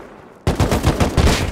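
Sudden burst of automatic gunfire in the survival game Rust, a fast string of close, loud shots starting abruptly after a quiet moment.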